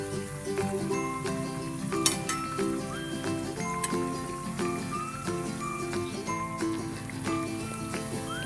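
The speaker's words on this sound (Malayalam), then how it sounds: "എന്നിട്ട് ഒരു മീഡിയം ഫ്ലെയിമിൽ വെച്ച് ഫ്രൈ ചെയ്തെടുക്കുന്നതാണ് നല്ലത്" Parippu vada, Kerala tea-shop style dal fritters, fry in hot oil over a medium flame. A steady, even sizzle runs throughout, broken by light clinks of a utensil.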